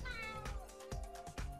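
Gary the snail from the SpongeBob Battle for Bikini Bottom video game gives a few short cat-like meows, close and clear over a busy game soundtrack.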